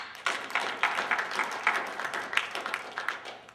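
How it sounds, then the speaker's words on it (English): An audience at a student government State of the Students address gives a sustained round of applause, with steady clapping that gradually tapers off near the end. "Let's give them a round of applause."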